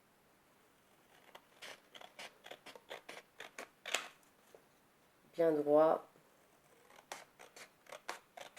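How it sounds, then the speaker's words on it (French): Scissors snip paper pieces for a handmade Christmas notepad, giving a run of sharp, close cuts in uneven rhythm, with a short spoken phrase in the middle. "on va venir couper tous les morceaux qu'on a"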